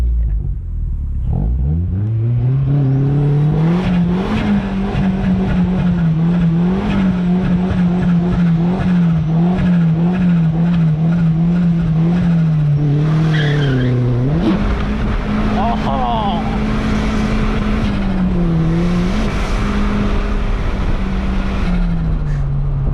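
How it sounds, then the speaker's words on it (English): A Mazdaspeed Miata's engine revs hard and steadily with a rising whine, tires spinning and churning through water in a burnout, a loud continuous roar with splashing bursts. "Should I do a burnout in the water?"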